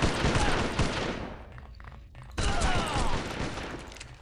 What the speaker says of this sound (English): Right mouse fires the left-hand gun